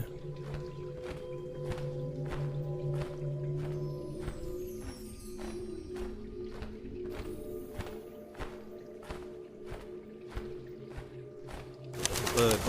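A bird in the Colossal Cave VR video game calls softly over a rhythmic run of regular clicking or tapping steps, fairly quiet, ending in a brief burst of louder clatter.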